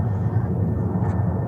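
Boeing 777 airliner arriving at JFK airport, a steady low engine rumble and roar heard from a distance, continuous through the short stretch with no clear talk.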